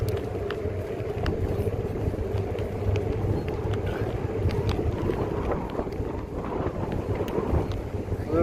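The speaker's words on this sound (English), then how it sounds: "It's a little windy." Steady wind rumbling and buffeting across a microphone outdoors, a continuous low roar with scattered faint clicks and no talking.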